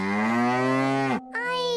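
A cartoon cow in an edited episode of Sofia the First lets out a long, loud, drawn-out moo, then a short gap and a second, higher moo. No one talks.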